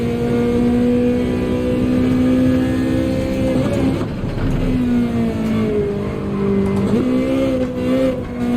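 Ferrari race car engine in Gran Turismo 7 during a three-hour endurance event: a loud, steady engine drone that holds high, dips and climbs again through gear changes, with a faint screech of tires near the middle.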